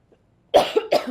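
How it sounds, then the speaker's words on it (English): Two sharp, close coughs from a throat itch in quick succession after a moment of near silence. "I have this itch with my throat that keeps wanting me to cough"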